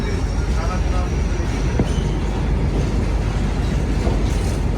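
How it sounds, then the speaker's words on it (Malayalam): A goods train with no lights passes on the opposite track, heard from inside a moving passenger train on a Kerala to Delhi journey: a continuous loud rumble and rattle of wheels and carriages that holds steady throughout. "നമ്മുടെ ഓപ്പോസിറ്റ് ഒരു ട്രെയിൻ പോകുന്നുണ്ട് കേട്ടോ. ഒരു ഗുഡ്സ്"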